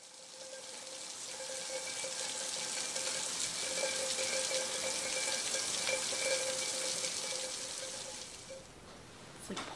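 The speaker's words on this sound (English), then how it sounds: "It's like pouring rain outside." Steady rain pours outside, a dense continuous wash of falling water that stays even in level for most of the stretch before briefly thinning near the end; no one speaks.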